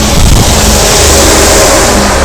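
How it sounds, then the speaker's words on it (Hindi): Loud car traffic noise on a street in Istanbul, Turkey, with a nearby engine revving and accelerating in a dense, steady roar that fills the whole moment. "गाड़ी का शोर बहुत था।"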